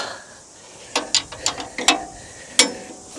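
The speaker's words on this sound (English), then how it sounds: "So we gotta loosen up the bottom nuts. So we'll loosen that up." A wrench clicks through several short ratcheting strokes while loosening the bottom nuts on a Turbosawmill, sharp metallic ticks coming in an irregular series close to the listener.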